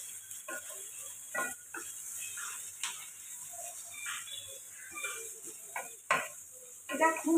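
Onions frying in a pan for a home lunch recipe, a steady soft sizzle with occasional scraping clicks of a spoon stirring, close and fairly quiet, no talking.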